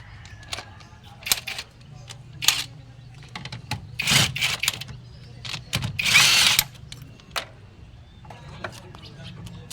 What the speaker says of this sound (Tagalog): Gamit yung pangmalakasan natin impact wrench, re-in,